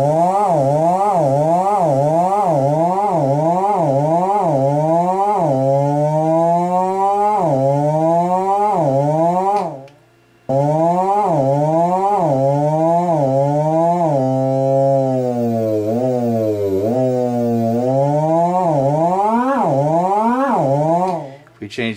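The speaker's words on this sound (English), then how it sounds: "So if we turn looping on now," A Solaris synthesizer with its looping envelope switched on gives a buzzy, sawtooth-like tone whose pitch sweeps up and down in fast repeating cycles. The sound runs loud and continuous, with one brief gap near the middle.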